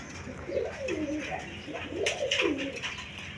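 Pigeons of a fancy coloured breed coo softly in a few rolling, throaty phrases, moderately close and alone.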